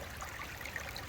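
Creek water running fast and high past a high banker at a creek crossing, a steady broadband rush and trickle with no voices, close and continuous.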